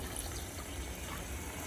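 Water pours into a pot of chicken curry on the stove, a brief, continuous splashing gush heard close up and alone for under two seconds.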